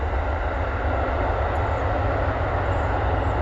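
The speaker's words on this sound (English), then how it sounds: "And now we have the train." Steady, loud rumble of a passing train, a continuous broadband roar with heavy low-end weight sustained throughout, heard close by outdoors beside a garden, with no voices.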